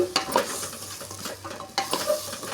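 Drumstick curry stirred in a pan: close scraping strokes of a spoon over a soft sizzle, two quick bursts of stirring separated by a brief lull.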